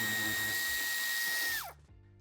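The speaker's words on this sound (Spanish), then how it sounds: "Y quitamos el tornillo." Power tool backing out a screw on a BMW X6 (G06) bumper area during towbar fitting, a steady high whine for about a second and a half that winds down and stops.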